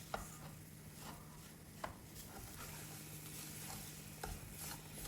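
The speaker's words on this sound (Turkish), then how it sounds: "Yaklaşık 10 dakika kadar devamlı olarak karıştırıyorum." Semolina roasting in a pan for irmik helva, stirred without a break, giving a quiet, even, continuous rustle with a few faint scrapes of the spoon against the pan and no voices.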